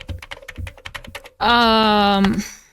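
A computer keyboard being typed on in quick, irregular taps, close and clear, then cut off by a loud sustained tonal synth-like sound that fades near the end.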